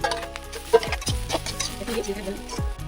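Peas are stirred and fried in a pan in a Bengali home kitchen, with a spatula scraping and clattering a few times over a light sizzle while a voice speaks nearby.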